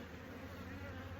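Bees in a beehive kept in a 12-gap partition, an Italian mutt colony that had swarmed, give off a soft, continuous droning buzz, faint and unbroken over a brief moment.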